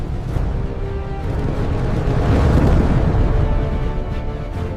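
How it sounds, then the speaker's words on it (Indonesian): Volcanic eruption of Mount Tambora rendered as a deep, continuous rumbling roar, loud and heavy with low booming energy that swells toward the middle and stays sustained throughout, no voices present. "Ledakan vulkanik bergema."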